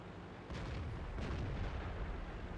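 Tank cannon fire in the World of Tanks video game: a single muffled, heavy boom followed by a sustained rumbling tail, fairly quiet and with no talking.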